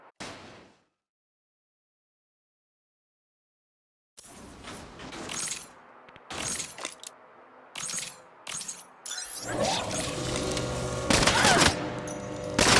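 Weapon fire and breaking glass in the Saints Row video game: after a silent gap come loud, close bursts of rapid shots with sharp shattering crashes, building into near-continuous gunfire toward the end.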